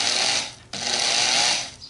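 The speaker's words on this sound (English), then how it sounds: "So I hooked the electric drill up to it" An electric drill drives a shop-built hand shaper, a close, steady mechanical whir and chatter that drops out briefly partway through, then resumes at full strength and fades near the end.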